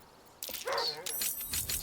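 A dog barking and yipping in the video game Baldur's Gate 3, a quick burst of several short, close barks and whines following a brief quiet moment.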